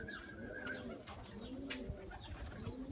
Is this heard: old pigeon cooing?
yes